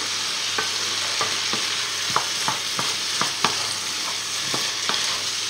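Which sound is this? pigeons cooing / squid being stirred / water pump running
squid being stirred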